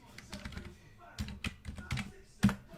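Keys clatter on a computer keyboard in short irregular bursts, close and fairly quiet, with a few sharper taps and one louder clack near the end.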